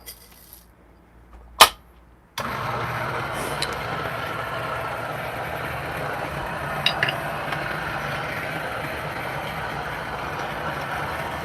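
A Lelit Bianca espresso machine pulls a shot, with a single click, then a pump switching on to a steady, moderately loud buzzing drone that continues evenly, with faint clinks near the end.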